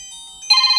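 Incoming-call ringtone from a Senbono GS8 smartwatch: after a faint high tone, a loud bright multi-tone electronic ring bursts in halfway through and pulses steadily to the end, heard alone.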